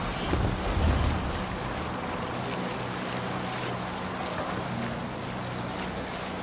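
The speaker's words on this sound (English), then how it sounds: "Raise the mast! Sail! Catch the wind!" Viking longship under sail in Assassin's Creed Valhalla, a steady rush of wind and sea wash with a low rumble at the start, continuous and fairly loud with no talk.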